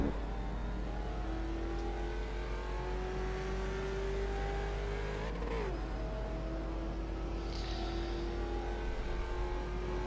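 A race car on the Road Atlanta circuit holds a steady, rising engine drone that dips sharply once mid-run and then climbs again, heard at a distance and fairly faint.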